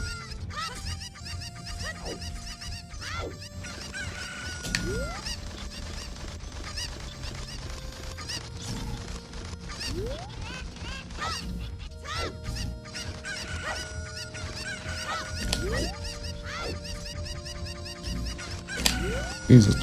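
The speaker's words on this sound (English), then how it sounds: "These are chickens being loud." Cuccos, the chickens of Zelda: Ocarina of Time, clucking and squawking loudly with many overlapping calls, rising and falling in pitch over a busy game soundscape.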